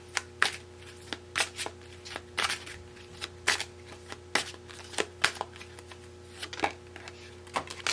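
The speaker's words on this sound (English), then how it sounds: "Let's shuffle a little bit more." Tarot cards being shuffled by hand, a run of crisp, close riffling bursts in an uneven rhythm over a faint steady hum, with no talking.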